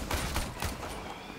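Gunfire in Warframe, a rapid volley of several close, punchy shots in the first half that trails into a quieter rumble.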